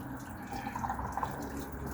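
Coolant drips and trickles from a loosened water pump hose on a Series 2 Land Rover, a faint, continuous wet dribble heard close up with no talking.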